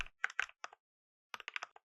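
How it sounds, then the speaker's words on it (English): Close, quiet typing on a computer keyboard comes in two short bursts of rapid keystrokes separated by a pause of about half a second, with no talking. "the inputs I keep typing out by hand"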